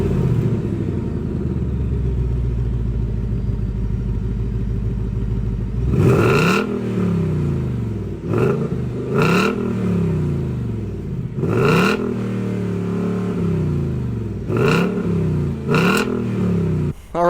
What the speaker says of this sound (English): Now one thing with the GTs is the exhaust. The exhaust always sounds amazing.